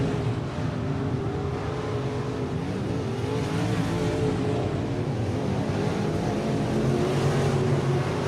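Race cars at Tulsa Speedway roar around the track in a continuous loud, near drone, engines rising and falling as they jostle through lapped traffic.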